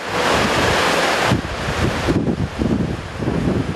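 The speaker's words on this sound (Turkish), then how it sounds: "Beykoz'daki Riva Deresi taştı." Floodwater from the overflowing Riva stream in Beykoz, swollen by rain and opened dam gates, rushes loudly and steadily close by, a dense unbroken roar with wind buffeting the microphone.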